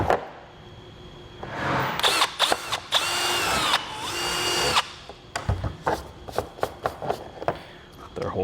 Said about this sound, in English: Now we can fully drill through.